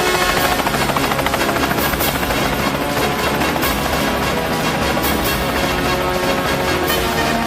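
Loud, steady thumping of helicopter rotors mixed with roaring engine noise, close and continuous with no talking.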